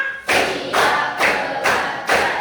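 Students in a classroom clap hands together in a rhythmic routine, producing five strong bursts of claps at a steady, even pace, loud and close, with no voices on top.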